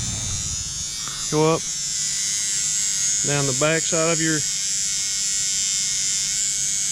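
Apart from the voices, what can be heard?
electric toothbrush buzzing to pollinate tomato blooms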